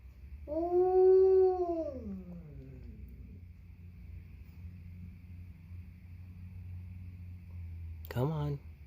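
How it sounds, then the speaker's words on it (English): A dog lets out one long, wavering howl that sinks in pitch and fades, over a steady low rumbling hum, with a brief sharp noise near the end. "She's gonna start howling because she hears the dogs barking."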